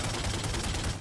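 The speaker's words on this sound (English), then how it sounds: "we've got people we're shooting!" Gunfire in The Godfather 2 video game, a dense, continuous volley of rapid shots at steady loudness across the whole second, with no talk over it.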